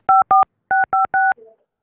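Telephone keypad tones while a call is being transferred: five sharp, loud dual-tone beeps in an uneven sequence, then a brief, fainter tone, with no speech.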